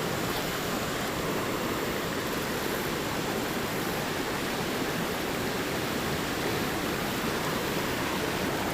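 Creek water rushing over a spillway at a river bass-fishing spot, a steady broadband roar that fills the whole clip at constant loudness with no pauses and no voices.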